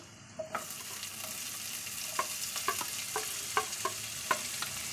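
Chopped spring onion and onion frying in a pan with garlic, a soft continuous sizzle broken by scattered scraping stirs and light taps of the spoon, with no talk.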